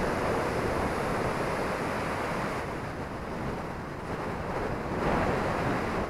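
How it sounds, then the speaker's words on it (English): Surf pounds the shore at Rialto Beach on the Olympic Peninsula, a constant broad roar of breaking waves that dips briefly and swells again, with some wind on the microphone. "The sun shining and the waves pounding in."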